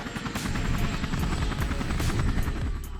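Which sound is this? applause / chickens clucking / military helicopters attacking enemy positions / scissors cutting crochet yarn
military helicopters attacking enemy positions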